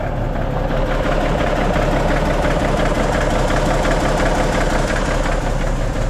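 A Cummins diesel engine in a Kenworth K100 cabover truck idles steadily and close by at -25 degrees, a continuous low rumble with a rhythmic knock and a slight high whine, with no voices.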